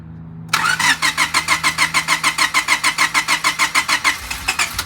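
A rebuilt JDM Honda D15B engine with forged connecting rods cranks with a sudden start, then a fast, even rhythmic chugging pulse continues, loud and close, with no talk.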